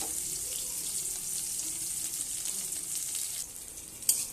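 Onions and dried red chillies frying in hot oil in a wok give off a steady, close hiss and sizzle that keeps up throughout, with a small clink near the end.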